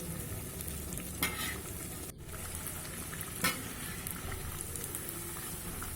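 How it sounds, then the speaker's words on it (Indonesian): Bakwan fritters fry in hot oil in a wok with a steady, dense sizzle throughout, broken by a couple of brief scraping or stirring clatters, close and continuous, with no voices. "Kita goreng bakwan sampai nanti warnanya kecoklatan ya."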